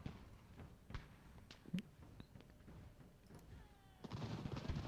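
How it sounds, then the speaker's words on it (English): Musket volleys in Ultimate General: American Revolution, faint scattered cracks and pops spread across the battlefield, with a denser rumble of fire building toward the end. "Volley fire!"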